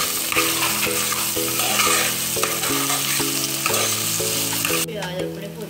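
Onions frying hard in a pan for sarson ka saag, a loud, dense, continuous sizzle with stirring, while steady tonal music plays throughout; no one talks.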